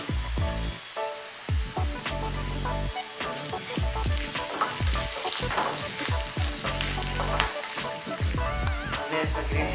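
Green chilies sizzle and fry in a spice mix with coriander for Rajasthani onion kachori filling, a loud continuous crackle with repeated stirring scrapes throughout.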